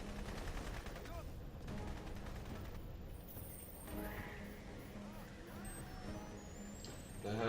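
Gunfire rattles through a Crysis firefight in bursts layered over a constant dense game soundscape, with a voice talking over the action.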